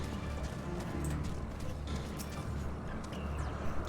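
Horse hooves clip-clop in Final Fantasy XIV, a quick, steady run of close hoofbeats over a constant ambient bed, with a person talking over part of it.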